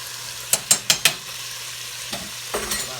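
A spoon stirs penne pasta in a pot for a quick cheesy dish, four quick scraping strokes close together, then a couple of softer stirs against a low steady hum.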